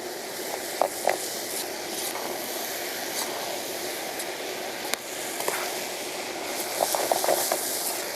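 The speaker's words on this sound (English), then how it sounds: "Give that a nice stir." Steady sizzle of mango fried rice frying in a pot with ground ginger being stirred in, soft scraping of the utensil and faint clicks under the continuous hiss.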